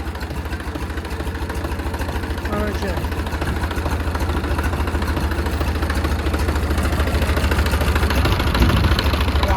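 A tractor engine running at a steady idle, a loud continuous low rumble with even vibration throughout, while a person talks over it.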